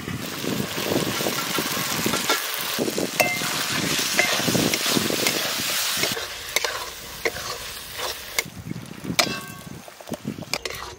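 Green peas fry with steady sizzling in a wok, with scraping and stirring, a continuous hiss punctuated by occasional clinks of a utensil against metal.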